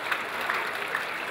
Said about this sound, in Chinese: 给你们自己多一点掌声